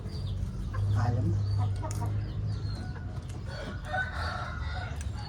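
A chicken crows, a drawn-out rooster call partly buried in busy outdoor background noise, with faint clucking and indistinct activity around it.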